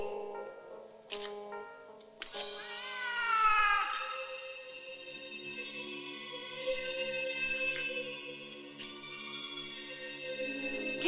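A cat gives a series of long, wavering meows and yowls that carry across several seconds, fairly close and clear against a quiet, hollow indoor background with a low hum.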